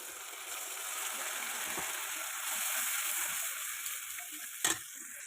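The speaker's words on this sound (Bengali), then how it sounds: "এখন টমেটো, পেঁয়াজ আর আদা গ্রেট করাটা আমি দিয়ে দেবো এখন।" Tomato, onion and grated ginger sizzle in hot oil in a pan, a steady close frying hiss that swells slightly midway, with a sharp utensil knock near the end.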